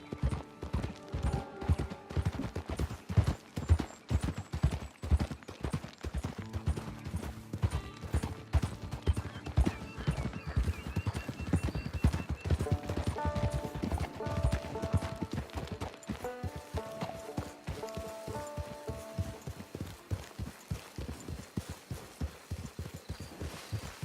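Horse hooves clip-clopping in the Red Dead Online video game, a long, steady walking rhythm of close, distinct hoofbeats, with background music swelling underneath.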